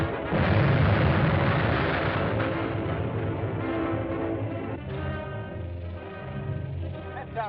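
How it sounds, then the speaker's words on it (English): A deep, rumbling explosion booms and rolls on for several seconds, a heavy low roar slowly fading under a steady drone. "That sounded like an explosion."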